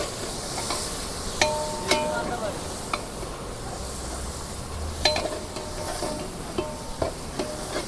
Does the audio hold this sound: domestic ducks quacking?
no